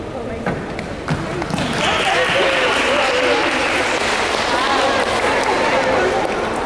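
A crowd claps at a 6th grade awards ceremony as a top student is called up, the applause building from scattered claps into a steady, dense roar, with voices murmuring underneath.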